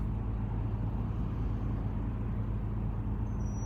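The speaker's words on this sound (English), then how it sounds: "And now we're in a traffic jam." Traffic jam seen from inside a moving car: a low, steady road and engine rumble with a faint distant hiss, no voices, constant and fairly quiet throughout.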